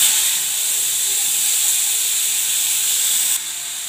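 Mustard seeds, black cumin, chili and vegetable stalks sizzle in hot oil with a loud, steady, close hiss that carries on alone and softens slightly at the end.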